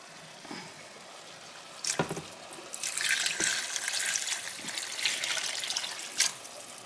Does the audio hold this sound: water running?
yes